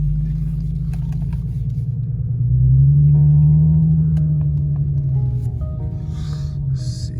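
An Infiniti G37X drives along with a steady low engine and road rumble that swells briefly around the middle. A few faint high chirps come in near the end, and no one speaks.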